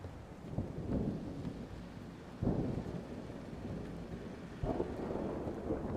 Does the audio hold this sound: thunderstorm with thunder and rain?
yes